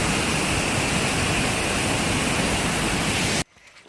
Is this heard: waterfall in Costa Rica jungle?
yes